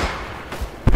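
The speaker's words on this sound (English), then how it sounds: "that was Bradley shooting" A Bradley vehicle fires in Roblox Centaura: after a short stretch of low rumbling, a loud, close, heavy thump of cannon fire bursts out abruptly at the end.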